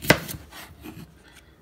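A knife cuts through chayote on a board in a home kitchen, one sharp close chop followed by faint scraping, no speech.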